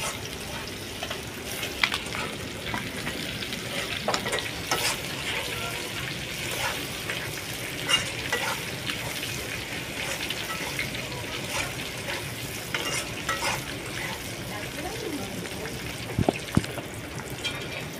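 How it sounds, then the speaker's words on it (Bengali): Onions and tomatoes sizzle and get stirred in a pan, giving a soft, continuous frying hiss broken by scattered utensil clicks and scrapes, with talking heard at times. "পেঁয়াজ আর টমেটো ভাজা হয়ে গেছে"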